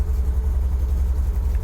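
A cold 1977 MGB engine running, a steady low rumble with a throbbing idle pulse, close and loud with no talk over it.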